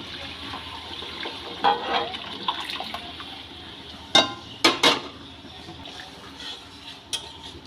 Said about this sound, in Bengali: সিদ্ধ করা ডালটা এবার ঢেলে দেবো